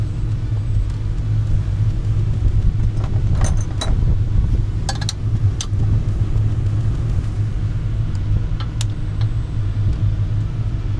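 A modified motorbike engine runs steadily, producing a continuous low rumbling idle close by, with a few faint metallic clicks and ticks over the drone and no talk.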